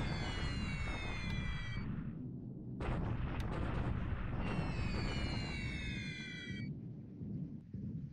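Flak guns in War in the Pacific fire as a continuous rumbling barrage of deep booms and bursts, with sharp high whistling streaks sweeping over it in two separate passes.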